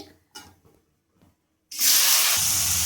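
Chopped onions, two small ones, drop into hot oil in a kadai for masala chicken, setting off a sudden loud, steady sizzle after a second or so of faint clatter and quiet.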